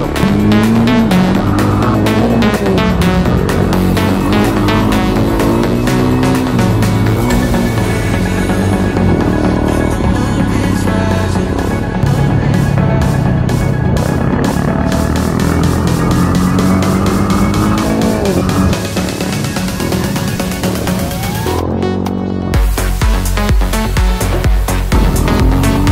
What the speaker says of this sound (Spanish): qué bien andan estas motos.